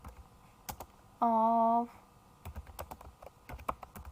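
Computer keyboard keys click close by in short bursts, with a brief spoken word between the typing.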